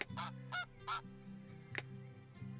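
Geese in the Let's Build a Zoo video game give three loud, clear honks in quick succession over a low droning hum, followed by softer calls.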